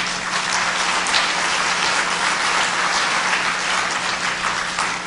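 A lecture-hall audience applauds steadily throughout, a dense, even wash of clapping from many hands at a public talk marking the first anniversary of the October 4 inter-Korean declaration, with no voices over it.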